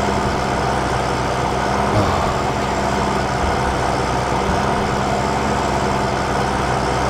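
A tractor and harvester engine in the video game Farming Simulator 2013 runs at a constant loud idle, a dense low mechanical drone that never changes.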